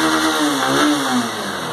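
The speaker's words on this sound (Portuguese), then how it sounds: "acabou de ligar, a bomba de combustível funcionou, deu a partida normalmente" A 2017 Honda Titan motorcycle engine runs steadily just after starting, heard up close with a mid-pitched, even tone that swells slightly in revs and then settles, with no voices.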